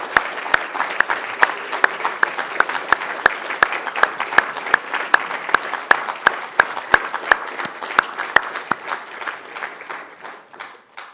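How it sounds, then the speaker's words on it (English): A University of Liverpool School of Dentistry graduation audience applauds families and friends in a lecture hall. The clapping is steady and sustained, with sharp individual claps standing out over the crowd's dense patter before it thins slightly at the end. "let me invite you to applaud your family and friends for everything they've done for you"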